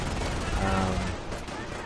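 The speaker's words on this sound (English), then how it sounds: "This on-map artillery really is failing at its job, which is to kill people, but I guess it's making some pretty explosions" On-map artillery in Company of Heroes booms amid rattling gunfire, a dense, continuous battlefield roar with a swelling blast near the middle, under a voice talking over it.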